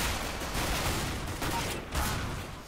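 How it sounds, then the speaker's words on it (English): Rapid gunfire in the video game CS:GO, dense overlapping automatic bursts and shots filling the whole stretch at moderate level with no talk. "Stop shooting me!"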